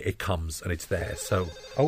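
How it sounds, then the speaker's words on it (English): A mobile phone rings during a commentary on a Doctor Who episode, its tone sounding under continuous overlapping conversation between several people. "that's my phone. And that's your phone ringing now."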